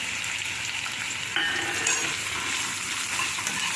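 Potatoes and soaked chickpeas frying in a pan as they are stirred, a steady close sizzle with soft scraping of the spoon, continuous and without talk.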